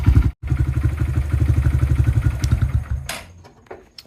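A Honda CRF125F dirt bike idles steadily on a stand during warm-up, its single-cylinder engine chugging in a rapid even pulse close by, cutting out briefly near the start, then dying away with a few clanks at the end.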